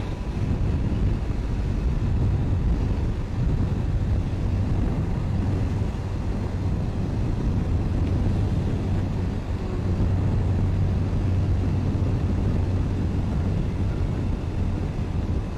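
A motorbike rolls slowly through a quiet city at midnight, its low engine drone steady and close under heavy, continuous wind rush, with no pauses.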